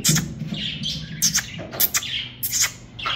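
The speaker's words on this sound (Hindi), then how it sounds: "तोते मेरे बोल रहे हैं, आपको आवाज़ आ रही थी" Pet parrots squawk nearby in repeated harsh, shrill bursts with short gaps between them, and some softer chirps underneath.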